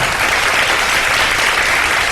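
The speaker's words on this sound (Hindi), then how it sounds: "तालियां बजा देंगे" Studio audience applause on a Ramadan iftar television show, a loud, dense wash of clapping from many people, sustained and even without a break.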